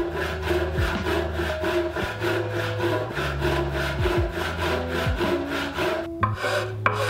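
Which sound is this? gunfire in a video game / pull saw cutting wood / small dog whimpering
pull saw cutting wood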